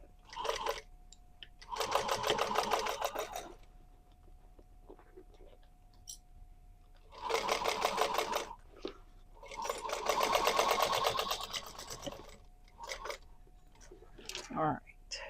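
A sewing machine stitching the seam of a fabric bag indoors, running in several bursts of rapid, buzzing stitches a few seconds long, with quiet pauses between runs and faint handling clicks.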